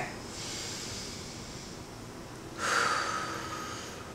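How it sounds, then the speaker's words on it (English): A deep breath taken close to the listener, a soft airy inhale followed by a louder, rushing breath lasting more than a second, with no talking. "Let's take a deep breath."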